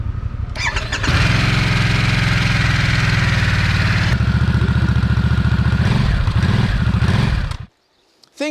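A 2022 Harley-Davidson Nightster with a 975cc engine starts and runs close by, loud and steady with a rhythmic throb, the pitch climbing briefly before it cuts off abruptly near the end.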